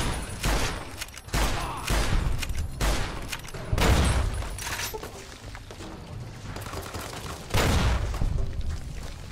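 Grenade blasts in Fallout: New Vegas land one after another in heavy, booming bursts mixed with gunfire, a loud, dense barrage with short gaps and no talk.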